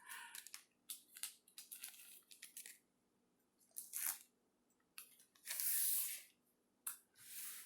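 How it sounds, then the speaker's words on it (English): A 1/6 scale action figure being unwrapped from its packaging, with bursts of close crinkling and tearing plastic separated by short quiet pauses. "We'll go ahead and unwrap him."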